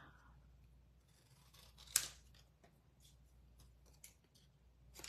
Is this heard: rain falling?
no